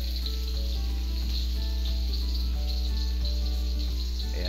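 Onions and garlic sauté in hot oil in a pan for chicken menudo, a loud, steady close sizzle with faint crackles and no talking.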